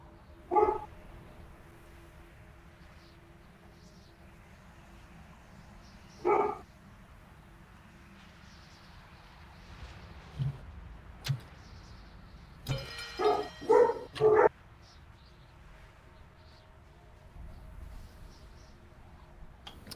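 Dogs barking inside the World of Warcraft game: a few sharp, isolated barks spaced several seconds apart, then a tight cluster of barks toward the end, over a quiet low background.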